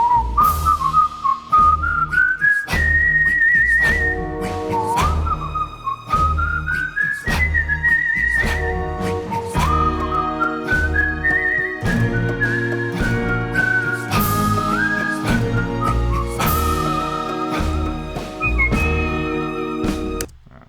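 Whistled melody in a Morricone-style arrangement, clear and prominent with sliding, sustained notes over steady instrumental backing throughout.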